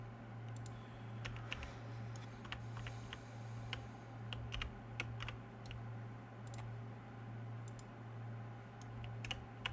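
Computer mouse clicks and keyboard typing come in irregular bursts of sharp, close taps over a steady low hum, quiet and with no one talking.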